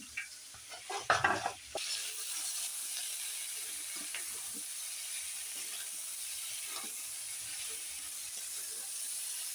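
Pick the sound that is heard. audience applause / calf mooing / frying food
frying food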